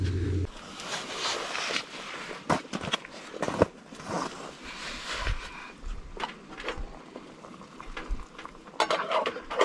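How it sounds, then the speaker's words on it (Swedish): Onions and potatoes frying in a pan inside a heated tent on an overnight camping trip, soft sizzling under scattered stirring clinks and scrapes, close and fairly quiet. "Så blir det stekt lök och stekt potatis och en eh, stekt köttbit."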